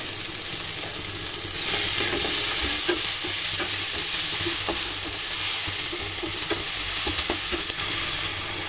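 Tomatoes with salt and a little turmeric sizzle in a pan under continuous stirring, with a steady frying hiss and repeated soft scrapes and clicks of a spoon, close and clear.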